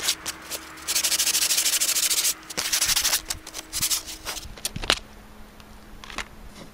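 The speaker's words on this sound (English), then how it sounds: "am running it across the sandpaper" Rough, scratchy sanding strokes rub back and forth against sandpaper in bursts, close and moderately loud, with brief pauses between passes.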